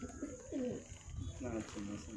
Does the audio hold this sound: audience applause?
no